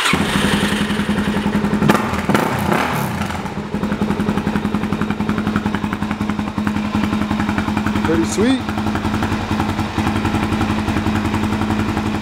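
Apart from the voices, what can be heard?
2008 Suzuki DR-Z400SM motorcycle engine starting and idling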